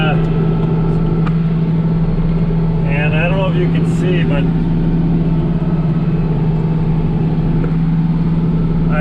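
A tractor engine runs steadily on the drive home from cutting crops, a loud continuous low drone with a strong hum, while someone talks over it.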